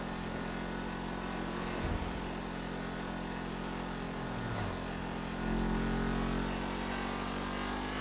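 An Audi RS7 Sportback in the GTA 5 video game revs and accelerates toward the desert, giving a continuous, fairly quiet engine roar that rises in pitch and swells near the end.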